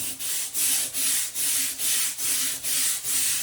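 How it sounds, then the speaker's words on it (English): A brush scrubs grout cleaner into tile grout in quick, even back-and-forth strokes, about eight rasping swipes, close and fairly loud with no voices. "an additional thing I'm going to do is just scrub this in."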